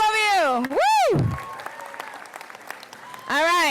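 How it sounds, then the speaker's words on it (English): Applause from a commencement audience for graduates, sandwiched between loud amplified shouted cheers at the start and end, the clapping steady but partly buried under crowd noise and voices. "A round of applause to all of you."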